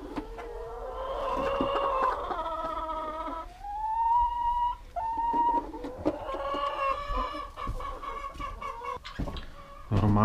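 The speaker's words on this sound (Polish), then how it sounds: "Oddziobała, odgryzła kura." A hen on a farm clucks and squawks loudly and agitatedly up close, in a run of rising, warbling calls with a few sharp bursts near the end, and no talk.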